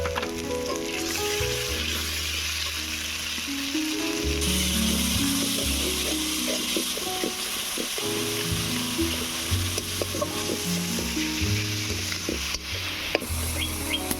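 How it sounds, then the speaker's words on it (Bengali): Spices with salt, cumin, coriander and chili powder fry in a pan for a fish curry, sizzling loudly and continuously while a spoon stirs and scrapes through them at close range. "মশলাটাকে ভালো করে কষিয়ে নেব।"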